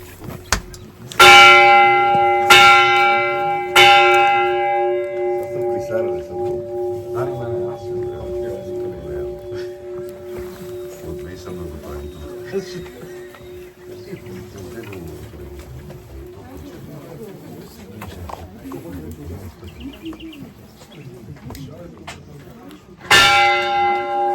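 Church bells toll in Bulgaria: a few loud clanging strikes ring out with long decaying hum, then fade under group chatter before another strike comes near the end.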